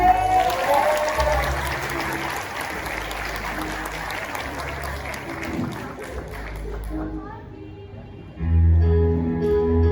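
Audience applause at a musical theater show, a crowd clapping steadily for several seconds before it thins out, then a burst of voices and microphone talk takes over near the end.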